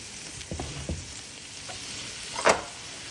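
Boudin and an egg frying in a WagnerWare cast iron divided skillet, a soft steady sizzle broken by a few light scraping stirs and one sharper clatter near the end.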